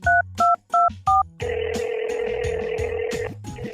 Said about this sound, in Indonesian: Aku mau telepon Marco aja deh.